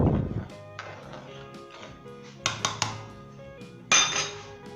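A metal lid set onto a pot of boiling lentils and mutton for Punjabi dal gosht, heard as several close clanks and clinks of metal on metal with ringing tones, the loudest strike near the end.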